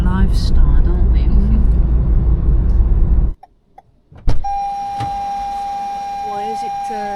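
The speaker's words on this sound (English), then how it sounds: "Why is it beeping at me? It's not beeping, it's because you've got the door open." A car's open-door warning chime sounds as a steady tone in the second half, after loud engine and road noise cut off abruptly, with a voice speaking briefly nearby.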